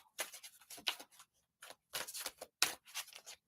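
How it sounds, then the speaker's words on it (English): Riffle-shuffling a brand-new deck of tarot cards that tends to stick, heard as repeated quick papery riffles and flutters in short bursts, close by and fairly quiet, with brief pauses between. "these cards are so new, they're kind of like sticking when I shuffle them a bit."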